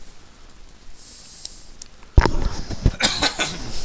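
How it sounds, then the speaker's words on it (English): A harsh burst of coughing, several rough close coughs in quick succession after a quiet start. "Coughing my guts off."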